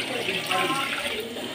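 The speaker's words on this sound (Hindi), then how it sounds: "अभी ये मैं 2 बाउल भर के पानी डालूंगी" Water is poured into a cooking pot holding chicken for degi pulao, a steady close-up splashing and gushing stream that fills the whole short moment.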